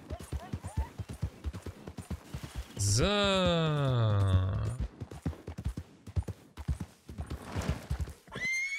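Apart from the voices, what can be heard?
horse hooves and neighing in video game Red Dead Redemption 2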